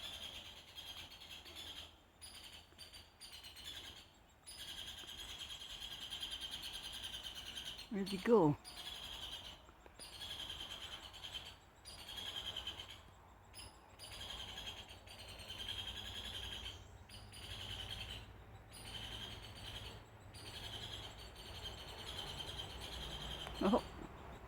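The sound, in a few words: woodpecker calling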